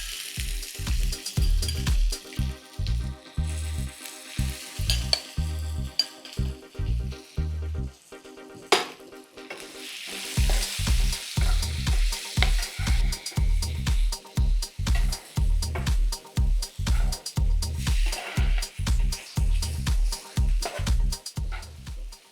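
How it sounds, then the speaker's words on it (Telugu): Grated raw mango is stirred into a sizzling tempering for a pickle, giving a steady frying sizzle under a rhythmic series of regular scraping and stirring strokes that continue throughout, with no talking. "ఏదైతే రోట్లో మనం నూరు పెట్టుకున్నామో మామిడికాయ తురుముని ఇందులో వేసేసుకోవాలి."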